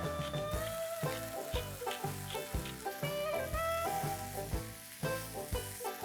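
Mushrooms sauteing in a pan with salt and cracked black pepper, a steady sizzle under bright, music-like tones with stirring and scraping accents, no one talking.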